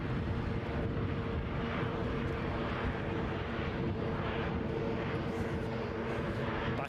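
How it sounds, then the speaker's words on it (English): ATR 42-500 turboprop taking off at Edinburgh airport, a steady broad engine drone with a low throbbing rumble, continuous and fairly distant throughout. "So this one off to Stornoway. What we're talking, ATR 42500?"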